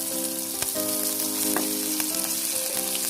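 Onion, mustard, poppy seed, cumin and ginger pastes fry in hot oil while cooking a hilsa fish recipe. A loud, constant close sizzle is broken by a few sharp crackles and spatters, and a faint steady tone runs underneath.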